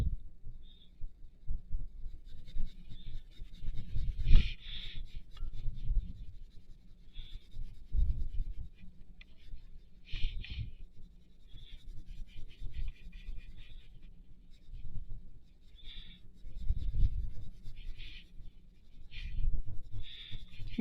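Soft, steady scratching of colored pencil blending on paper, faint and close, with small rhythmic strokes repeating throughout.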